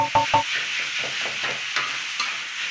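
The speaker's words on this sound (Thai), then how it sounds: "ผัดหมูใส่เครื่องแหงเข้ากันเลย" Pork sizzles and crackles in a hot pan while it is stir-fried, with a few scraping clinks at the start and a steady frying hiss underneath.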